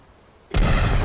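A sudden heavy artillery bombardment blast in the real-time strategy game Act of War: High Treason, bursting loud and sustained after half a second of quiet.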